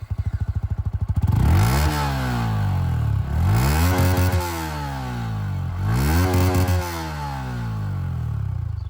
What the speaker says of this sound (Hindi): चलिए अब यहाँ पर MT-15 की भी एग्जॉस्ट साउंड मैं आप लोगों को सुना दूं।